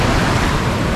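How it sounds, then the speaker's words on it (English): Big ocean waves crash on rocks along the Tobago coast, a loud, dense roar of surf with wind buffeting the microphone, continuous and very close. "Big waves coming through."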